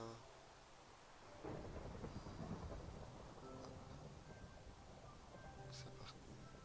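Minecraft rain falls in a steady hiss while a low rolling rumble of thunder builds and lingers, moderately loud, with faint scattered game sounds on top and no speech.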